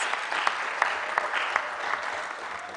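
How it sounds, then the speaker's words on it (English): An audience at Makerere University's 2023 UN Day concert claps steadily for nearly three seconds, a dense wash of hand claps with a few sharper claps standing out. "can you please clap for this?"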